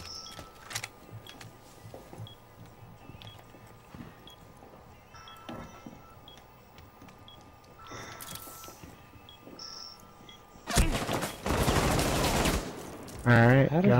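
Rapid gunfire from the tactical shooter game Rainbow Six Siege, with scattered shots early on, then a loud sustained burst of automatic fire near the end, under faint game ambience and occasional talk.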